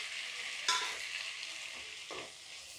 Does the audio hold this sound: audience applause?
no